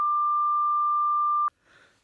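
A censor bleep: a steady pure tone lasts about one and a half seconds and cuts off sharply, followed by a brief trace of faint speech.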